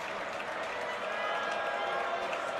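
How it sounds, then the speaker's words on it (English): A basketball arena crowd at an Indiana versus Northwestern men's game swells into a steady, broad cheer and applause, with a commentator talking over it. "Here comes the crowd a little bit"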